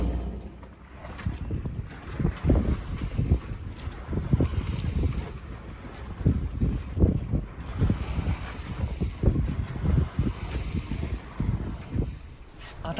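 A sailboat under sail with no engine running in about 14 knots of wind, with irregular low thumps and sloshing of water against the hull under a steady rush of wind, no voices.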